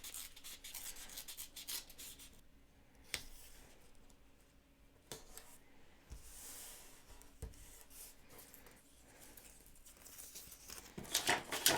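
Scrap paper torn by hand for sketching gives quiet, intermittent rubbing and ripping sounds with a few sharp clicks, growing louder in a final burst of tearing.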